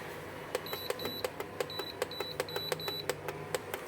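A series of short electronic beeps from an 1800-watt induction cooktop's buttons, some doubled, sounding at an irregular quick rhythm over a low steady hum; nobody speaks.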